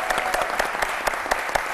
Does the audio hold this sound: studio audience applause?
yes